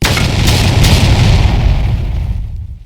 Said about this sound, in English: Having moved into place, Melas's artillery opens up.